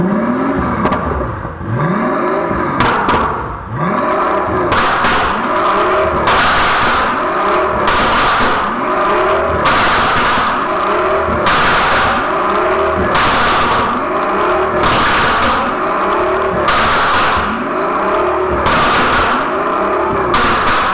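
A Pagani supercar's engine revs hard and loud at close range for about twenty seconds, with repeated rising and falling surges and sharp crackles and pops between them, drowning out everything else.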